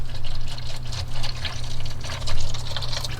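Engine oil streams steadily out of the oil pan of a BMW 335i with an N54 engine during a 100k-mile oil change, a close, continuous splashing trickle with slight surges.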